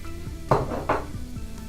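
Hoisin sauce stirred into shredded chicken in a pan makes two clanking utensil scrapes against the metal, loud and close, over a low steady background hum with no speech.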